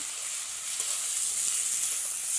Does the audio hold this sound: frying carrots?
yes